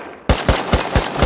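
Tommy gun fire in a video game: a burst of about five sharp, evenly spaced shots at close range following a brief quiet moment.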